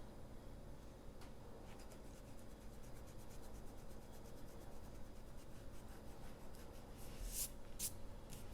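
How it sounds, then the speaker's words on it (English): An eraser rubbing out pencil lines on paper during a cat drawing, a faint, steady scratchy rubbing that continues throughout, with a few brief louder strokes near the end. "I erase all of these lines inside here."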